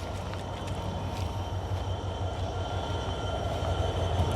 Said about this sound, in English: oh, there's another train, albeit not in our yard.